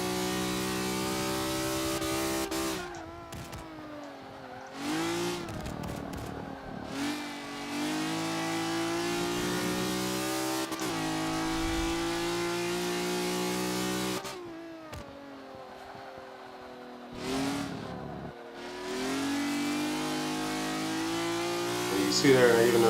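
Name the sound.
car engine revving, throttle out of corner, racing video game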